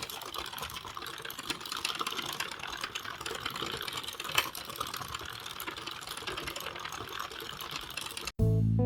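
A knitting machine runs a round steadily, a dense continuous mechanical clatter with even rhythm, close and fairly loud, ending abruptly with a short louder thump.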